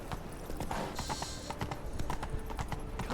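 Horse hooves gallop in The Witcher 3 video game, a rapid, continuous clip-clop rhythm at moderate volume with no talk.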